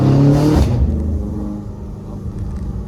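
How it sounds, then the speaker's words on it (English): Stage 2 exhaust on a BMW F90 M5 Competition heard from inside the cabin with the window open, a loud low rumbling burst that fades into a steady deep drone. "I'm just going to show you from the inside how low this exhaust system is at the moment."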